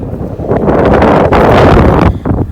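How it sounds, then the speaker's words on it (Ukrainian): Strong wind roars and buffets the microphone in a continuous, loud rush across an open field during disc harrowing, gusting slightly louder toward the end. "Вітер страшний, дує на полі"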